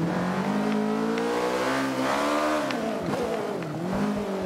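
Ariel Atom V8 in Forza Motorsport 5, its engine revving hard with the pitch rising, dropping at quick gear changes and climbing again, loud and close throughout.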